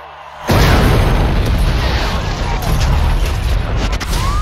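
A sudden loud boom from a Boston Marathon bombing scene in a film trailer erupts after half a second of quiet, followed by a sustained roaring rumble and crackling debris for several seconds.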